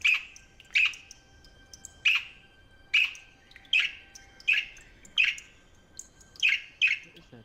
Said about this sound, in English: What is that chirping?